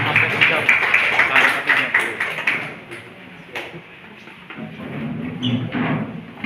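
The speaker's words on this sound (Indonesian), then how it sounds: "Kita berikan tepuk tangan." Applause at a community workshop event, a fairly loud burst of mixed claps that thins out midway, followed by scattered taps and murmuring voices in the background.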